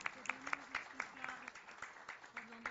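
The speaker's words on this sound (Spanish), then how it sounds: "Muchas gracias, un aplauso para ustedes." Scattered applause from a small audience at a commission meeting, a handful of separate claps with a voice speaking faintly underneath.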